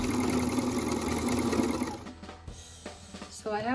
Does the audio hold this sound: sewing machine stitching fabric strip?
yes